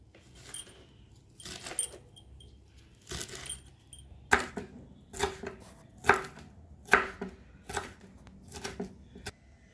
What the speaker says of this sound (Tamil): பொடி பொடியாக நறுக்கிக்கலாம்.